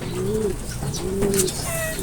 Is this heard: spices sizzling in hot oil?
no